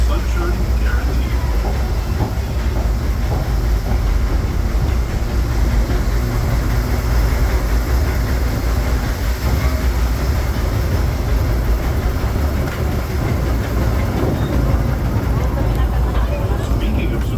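The Disneyland Railroad train rolls along continuously, a steady rumbling drone of wheels and cars with faint rhythmic clatter, heard from on board while a recorded voice narrates over it.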